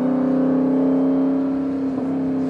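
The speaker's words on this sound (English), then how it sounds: "these Hemis really have a very unique sound" A Jeep Trackhawk's supercharged Hemi V8 holds a steady, loud droning note close up, a strong engine hum with a slight pitch shift partway through and no talk over it.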